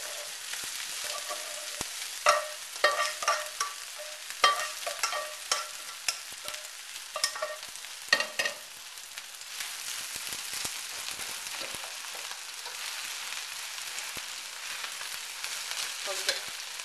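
Freshly cooked rice goes into a hot wok with garlic and spring onions and crackles in a busy, close sizzle, with scraping and stirring bursts that are stronger early on and then settle into a steadier fry.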